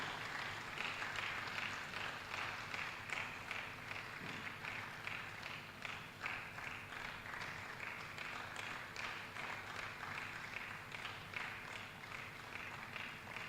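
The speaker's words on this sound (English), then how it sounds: "I want the applaud to continue until he is seated." At a university law school book presentation, an audience keeps up faint, continuous applause for the Vice Chancellor, the clapping patter steady and slightly uneven throughout.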